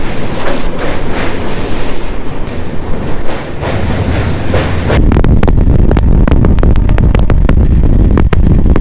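Tamralipta Express passenger train running between Howrah and Digha, heard loud and close as a steady rumble with sharp repeated clickety-clack wheel beats, joined by some microphone wind noise.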